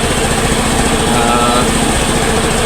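A Motorstar Easyride 150 motorcycle engine runs steadily and loudly up close after a misfire was fixed, with an even, continuous putter and no talking.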